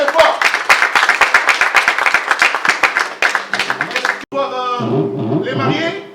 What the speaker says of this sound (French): Si vous pouvez applaudir très très très fort, s'il vous plaît.